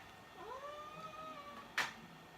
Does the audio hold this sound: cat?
yes